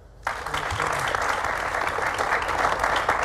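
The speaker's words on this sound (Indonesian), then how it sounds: "Boleh tepuk tangan." An audience at an Indonesian political talk show bursts into applause after a brief quiet start, then keeps up sustained, even clapping from many hands to the end.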